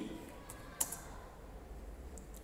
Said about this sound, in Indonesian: kita cukup menekan tombol tab pada keyboard